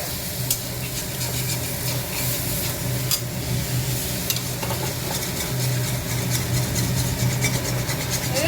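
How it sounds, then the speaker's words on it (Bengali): Soybean chunks and potatoes fry with spices in a pan, giving a constant close sizzle broken by sharp scraping clicks of stirring and a low background hum. "মশলা দিয়ে মানে সয়াবিন আলুটা দিয়ে মশলা দিয়ে মানে ভাজা হচ্ছে।"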